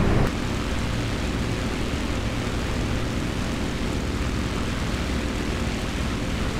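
Steady, loud piston engine drone of a B-17 Flying Fortress climbing in a flight simulator, a continuous unbroken roar with no talking over it.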